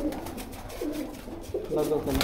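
Salara pigeons give several rolling coos up close, and a voice talks over them at times.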